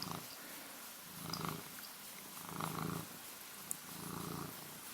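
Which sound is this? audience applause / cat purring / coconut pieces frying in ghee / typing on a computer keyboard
cat purring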